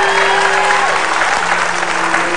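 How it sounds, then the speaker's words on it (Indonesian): A television game show studio audience applauds a contestant, loud, dense clapping filling the room with a steady sustained wash and a faint tonal hum underneath. "Tepuk tangan sekali lagi dong untuk Bapak."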